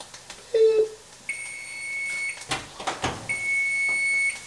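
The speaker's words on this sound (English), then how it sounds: "But this buzzer's about to go off for the carrots" Electronic timer beeps in sustained high-pitched tones, sounding twice with clattering and a short hum between them, close by.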